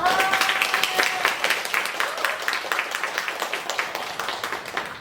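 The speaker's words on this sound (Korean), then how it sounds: "큰 박수 부탁드립니다" A crowd applauds at a neighbourhood community forum in Songpa-gu, Seoul: dense, continuous clapping at moderate volume that holds steady throughout.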